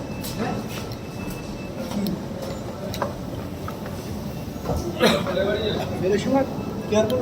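Metro train ride in Kolkata, a steady rumble of the carriage running throughout with faint rattles and clicks, under scattered background voices.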